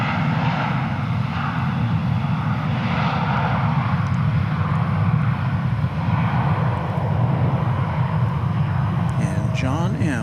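A jet airliner at DFW Airport, producing a loud, sustained low engine roar that fills the whole stretch, with a voice talking faintly underneath.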